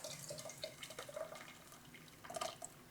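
Bacon grease tipped out of a pan splashes and trickles into water in a kitchen, a quiet, irregular run of small drips and gurgles.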